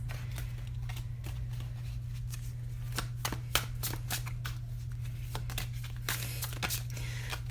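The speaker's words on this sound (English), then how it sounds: "The way these cards flip are so crazy." Tarot cards are shuffled and flipped close up in quick, crisp riffling bursts and snaps that repeat steadily over a constant low hum.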